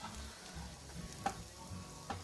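Garlic frying in a pan for grilled fish sisig, a faint, low sizzle with a couple of light stirring clicks, soft and close with no one talking.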